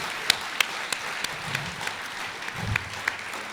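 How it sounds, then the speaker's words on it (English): A crowd at a women's leadership event applauds the team of the Fawcett Society, a steady mass of clapping with a few sharp, distinct claps close by and a low murmur briefly underneath. "So can we have a big round of applause for all the team at the Fawcett Society?"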